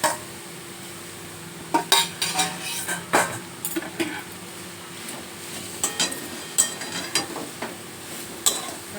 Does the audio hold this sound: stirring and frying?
yes